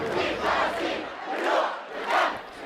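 A protest crowd in Ramallah chants and shouts in swelling waves, three loud surges of massed voices rising and falling, with no individual speech standing out.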